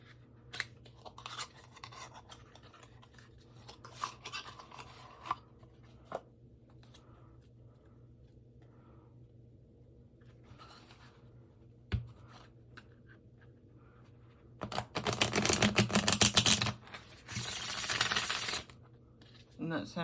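Quiet scattered clicks and tarot card handling, then two loud bursts of a Pagan Otherworlds tarot deck being riffle-shuffled near the end.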